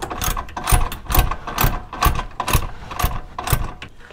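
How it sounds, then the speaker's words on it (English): A hand ratchet tightens a bolt on a Hella horn mount on a Toyota RAV4 Prime, producing steady, evenly spaced clicking strokes, about eight close loud bursts in a row with no voices. "Just have to go from the back side, tighten this guy up."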